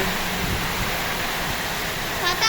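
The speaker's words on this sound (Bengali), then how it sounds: "আকাশে মেঘ প্রচুর বৃষ্টি হচ্ছে" Heavy rain driven by wind during a Kalbaishakhi storm makes a loud, continuous roar of hissing rainfall and gusts, close and unbroken, with a faint rustle near the end.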